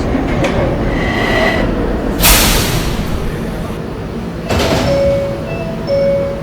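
NYC subway R train running, a loud continuous rumble of wheels and car noise with sharp bursts of hiss and faint tonal whines from the equipment.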